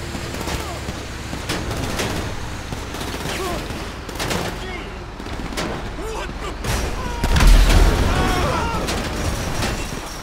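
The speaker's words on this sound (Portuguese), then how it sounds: "Tô escutando tiro, barulho de tiro aí." Gunfire in the video game GTA 5 at a construction site, a run of sharp overlapping shots and volleys in irregular bursts with a heavier blast near the end, over steady rumbling game ambience.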